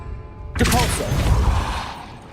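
A Depulso force spell in Hogwarts Legacy strikes an object with one sudden loud whoosh and thud, then a rumbling crash that slowly fades away.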